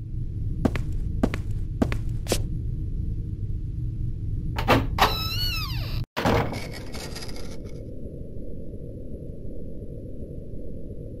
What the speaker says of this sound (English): we should just follow that creaking door